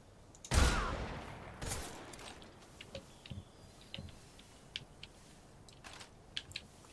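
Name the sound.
gunfire in video game Metal Gear Solid Delta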